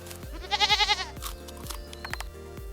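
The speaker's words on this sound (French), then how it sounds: "Surtout la voix du chèvre" A goat bleats in a short quavering burst, loud and close, over a steady rhythmic background beat.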